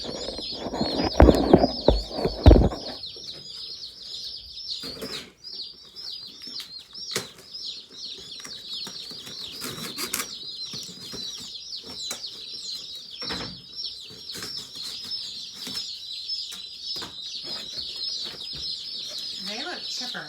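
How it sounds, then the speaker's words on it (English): Many young meat chickens, a hardier broiler breed on a homestead farm, chirp and peep continuously in a dense, steady chorus, with a burst of wing flapping and handling noise at the start and occasional thumps throughout. "Let's look at these meat birds."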